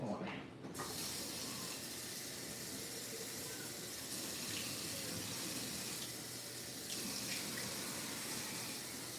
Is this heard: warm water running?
yes